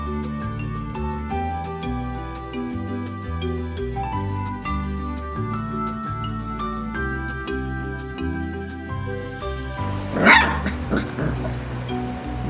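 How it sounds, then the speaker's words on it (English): A young Labrador puppy gives one sudden sharp bark near the end, loud and close, after a stretch of music and a voice speaking. "That was a crazy bark."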